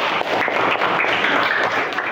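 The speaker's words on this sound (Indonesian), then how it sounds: "Tepuk tangan untuk kalian." Students in a classroom clap together in a brief burst of dense, steady applause heard close by.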